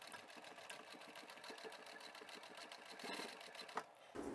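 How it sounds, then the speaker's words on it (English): Sewing machine stitching through all layers of a large trapezoid utility bag at one end, with backstitching over bulky seams: a quiet, steady rapid needle chatter running continuously, with a small click near the end. "Now we're going to sew all of the layers together at each end."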